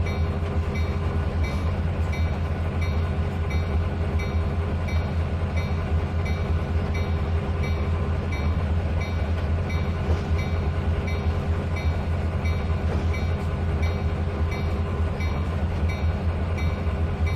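A train rumbles along continuously in the railway simulator Trainz 2019, with a steady low roar and a faint rhythmic clatter from the wheels, loud and unbroken for the whole stretch.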